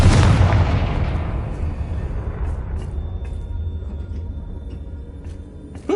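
In a Harry Potter wizard video game, the Confringo spell sets off a loud explosive boom that decays into a long rumbling tail, followed by faint clicks and a small thump at the end.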